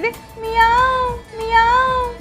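A voice imitates a cat's meow, giving two drawn-out, clear meows in quick succession with a short pause between them.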